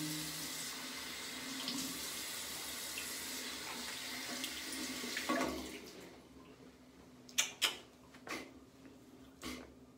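A tap runs in a continuous hiss while rinsing after a shave, then shuts off partway through, leaving a few short sharp clatters and splashes in a quiet room.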